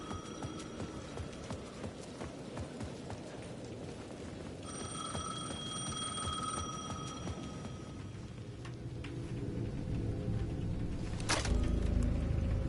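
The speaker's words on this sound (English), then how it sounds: "The payphone at the edge of the plaza was ringing again." A payphone in Alan Wake 2 rings with a bright, steady electronic tone standing out over a low, throbbing ambient hum, with a sharp burst and louder rumble near the end.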